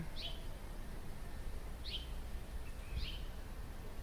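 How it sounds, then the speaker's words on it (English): Birds chirp in a forest: three short, high, faint calls spaced about a second apart over a steady background hiss of outdoor ambience. "Some birds chirping."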